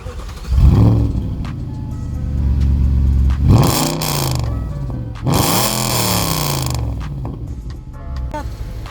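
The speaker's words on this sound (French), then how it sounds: "Vous allez entendre la brutalité de l'échappement" An Audi RS4 exhaust revs hard in several loud, rising bursts, the deep roar climbing and falling with each blip of the throttle, heard up close.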